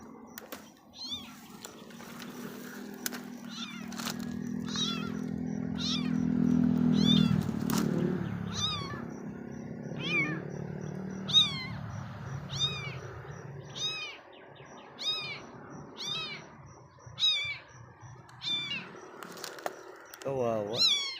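A kitten meows again and again, short plaintive cries repeating every second or so while people talk nearby over a low background hum.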